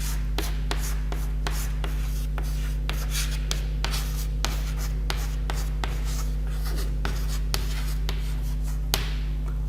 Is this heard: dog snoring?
no